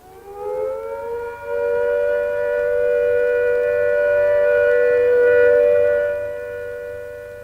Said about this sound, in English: When the all clear sounds, like this,